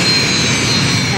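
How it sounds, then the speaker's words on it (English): Army aircraft landing on an airfield tarmac for a fallen helicopter pilot's final flight, a steady loud roar of jet or turbine engine noise filling the whole moment, with a faint high whine above the broad rumble. "One final flight and landing for Chief Warrant Officer Benjamin Todd."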